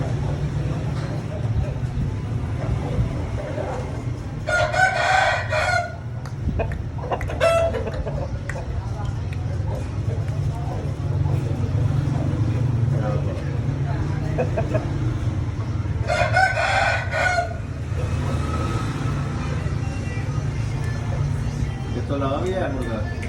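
A rooster crows twice, bright and fairly close, over a steady low hum and a background of ongoing voices and scattered clucking from other fowl.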